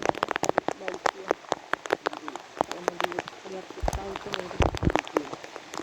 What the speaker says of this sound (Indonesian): Saat ini situasi hujan